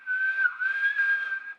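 A voice imitates a 5 p.m. quitting-time work whistle with one sustained, steady whistled tone of almost two seconds, close and clear and not under any talk.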